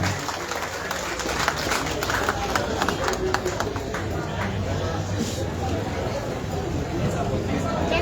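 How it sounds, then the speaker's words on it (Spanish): A crowd at a community gathering in Livingston applauds an organization, with loud, dense clapping mixed with cheering and chatter from many voices all around. "Así que fuertes los aplausos para la organización CEDU Aruguma."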